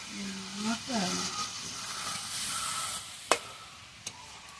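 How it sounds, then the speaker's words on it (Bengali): Chana dal deep-frying in plenty of hot oil, a steady soft sizzle and hiss with a few stirring scrapes and two sharp clinks near the end, while a voice talks faintly over the top. "ডুবো তেলে ভাজতে হয়, ছাঁকা তেলে।"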